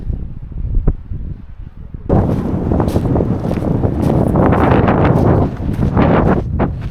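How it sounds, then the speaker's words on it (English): Strong, cold wind in Iceland roars and buffets the microphone, starting softer then surging into a loud, continuous gusting rush. "It is cold and the wind is so strong"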